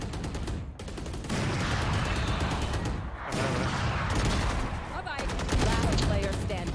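Dense, continuous gunfire in the tactical shooter Valorant, with loud rapid shots layered almost without pause and brief dips between bursts.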